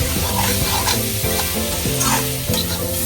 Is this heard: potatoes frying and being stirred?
yes